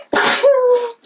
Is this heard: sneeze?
yes